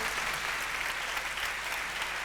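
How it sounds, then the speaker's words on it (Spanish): Sustained applause from an audience at a talk about Isabel Zendal Gómez, many hands clapping in a dense, even wash that stays loud and continuous throughout, with no speech over it. "le damos otro aplauso a Ana, por supuesto"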